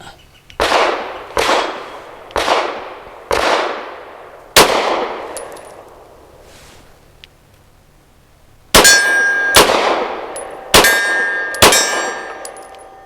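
Gunshots from a Girsan MC 9 pistol, a run of loud close single reports with ringing decay, four evenly spaced, a pause, then four more in quicker succession, with no talk.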